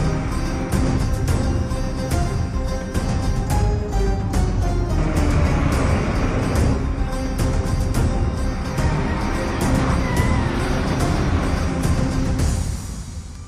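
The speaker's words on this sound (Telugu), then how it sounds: "సార్ ట్రక్ పాస్ అయింది." Heavy truck passing on a road in a tense action movie scene, a loud sustained engine and tire roar that swells and holds for most of the span before easing off at the end, with no talk over it.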